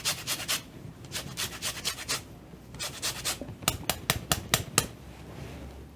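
An orange rubbed against a grater to take off the zest for French toast, rapid rhythmic rasping strokes in short bursts, close and dry, with a quicker, sharper run of scrapes toward the end.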